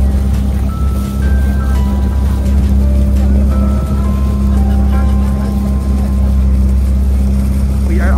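A motorboat engine drones steadily and loudly throughout a boat trip to Calaguas Island in Camarines Norte, a constant low hum with wind and water rush and faint voices underneath.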